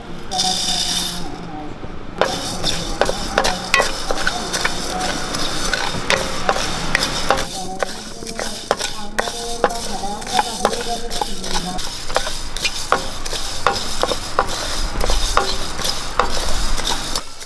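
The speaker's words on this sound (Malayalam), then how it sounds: "മൂന്ന് സ്പൂണ് മല്ലി ഇതും വറുത്തെടുക്കാം" Coriander seeds rattle and crackle as they are dry-roasted in a pan for sambar powder while a spoon scrapes and stirs, with sharp clinks of metal recurring throughout.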